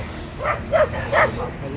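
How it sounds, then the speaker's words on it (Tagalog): A dog barks several times on a village walk, three or four short, close yips in quick succession, with people talking over the barks. "Malala pa talaga ng aso."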